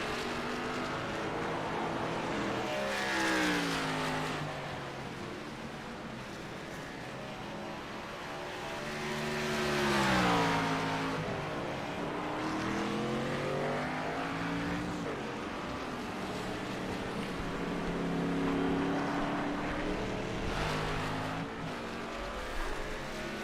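Race cars run in a sim racing video game, several high-revving engines rising and falling in pitch as they shift and pass, moderately loud and continuous, no commentary heard.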